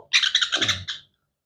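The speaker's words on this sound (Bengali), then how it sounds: "এটা হচ্ছে সান কোনরের বাচ্চা" Sun conure chicks give a quick run of shrill, rasping calls, about eight pulses in under a second, loud and close, ending in one final squawk and then silence.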